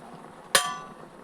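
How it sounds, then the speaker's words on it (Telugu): A metal lid set down on a cooking pot of gongura leaves steaming on the stove: a single sharp, ringing clank with a short metallic decay, close and alone against a quiet kitchen background. "దీనికి ఇప్పుడు లిడ్ కవర్ చేసి పెట్టేద్దాం"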